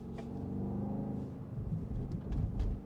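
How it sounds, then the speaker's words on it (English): A 2023 BMW XM on a night drive, its exhaust giving low rumbling burbles with a few short crackling pops as gears shift, close and moderately loud with no talking. "You should call them burbles rather than bangs."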